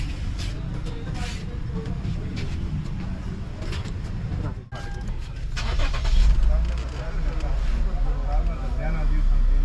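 A car engine cranks and catches, then idles and revs louder after workshop repair, with people talking over the running engine throughout.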